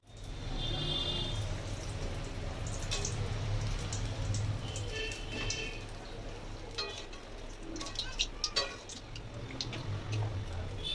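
Banana flower chops frying in hot oil, a soft steady sizzle with faint ticking pops, quiet and continuous throughout.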